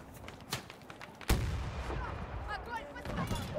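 Explosion and gunfire in the video game Battlefield 2042 during a Breakthrough match: a single heavy blast hits loud partway through, with scattered shots before and a continuing rumble and crackle after, alongside faint voices.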